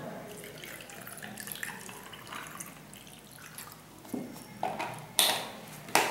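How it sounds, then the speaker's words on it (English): Lychee juice pours into a cocktail shaker with ice, a soft running liquid sound ending in a few bright clinks and rattles of ice near the end. "Then you have to add 120 or 180 ml of lychee juice."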